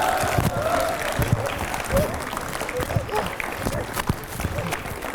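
Audience clapping at a talk given by a yoga guru, a steady wash of applause from a crowd at moderate distance, with some voices mixed in.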